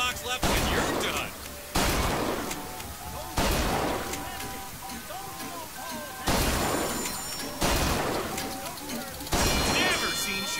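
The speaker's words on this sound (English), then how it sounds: "Never seen shooting like that!" Gunfire from Bioshock Infinite, heard as a series of loud, sharp shots spaced a second or two apart, each ringing out and fading, with chimes and game sounds in the background.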